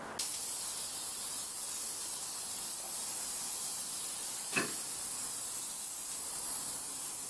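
An aerosol can sprays a light coat of etching primer over a chrome Toyota Tundra grill surround, a continuous close hiss holding steady for several seconds.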